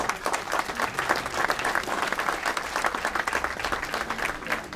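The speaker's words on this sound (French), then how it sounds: "On peut l'applaudir." Audience applause at an outdoor literary gathering at Cap Ferret on a rainy day, with dense, steady clapping from a crowd that stays loud throughout.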